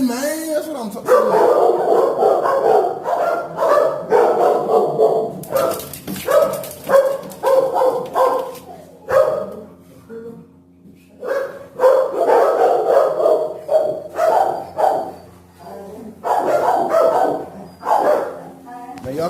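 Several dogs at an animal shelter bark, yip and whimper loudly and repeatedly in bursts, with someone talking close by in between the barking.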